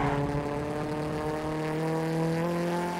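A car engine hums steadily while driving in GTA roleplay, a sustained mid-loud drone with a slight shift in pitch partway through and no voices.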